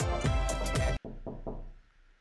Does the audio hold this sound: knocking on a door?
yes